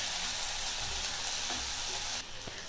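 Tomato and onion sauté in a pan for peanut chutney, making a steady, dense sizzle with occasional stirring scrapes and no one talking.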